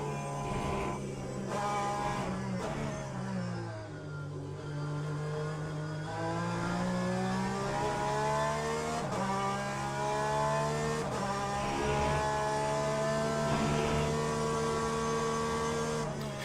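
Race car engine in the Le Mans Ultimate sim racing game, revving high and steady with repeated gear shifts rising and falling in pitch over a long stretch, loud and continuous.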